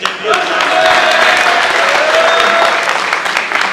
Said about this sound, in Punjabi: ਇਹਦੇ ਲਈ ਇੱਕ ਤਾੜੀਆਂ ਨੇ